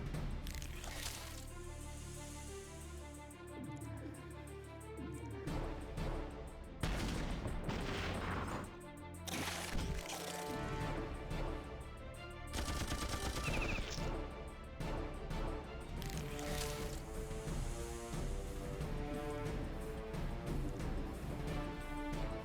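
Thresher tanks attacking spider wasps in the Battle Nations video game, a dense, continuous din of crashing impacts and rapid fire layered over game music.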